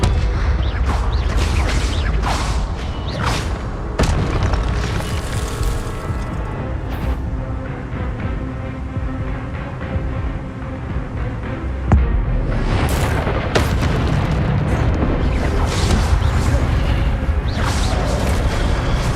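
Spell blasts from the Harry Potter video game, with Expelliarmus attacks during a fight with giant spiders: dense, continuous loud booms and crashing impacts with sharp bursts over a heavy game soundtrack, for the full stretch.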